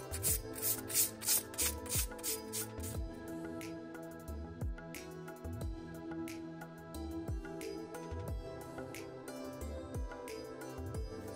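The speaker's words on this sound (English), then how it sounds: "Next step is 280 sandpaper," 280 grit sandpaper rubs over a blaster pistol prop, first in quick rhythmic strokes, then in irregular quieter scrubbing, close and fairly faint.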